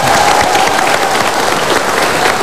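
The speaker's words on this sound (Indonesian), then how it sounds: "Tepuk tangan." An audience claps steadily and loudly for the whole stretch, a dense continuous wash of applause with no pauses.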